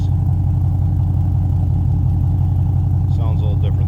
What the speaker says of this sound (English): Good throaty exhaust, no doubt about that.